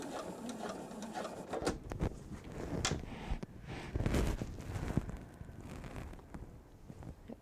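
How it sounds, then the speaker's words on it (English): A sewing machine stitches in uneven bursts, its needle clatter rising and falling close by over a faint background hiss, with no talking. "I could feel it as it was stitching."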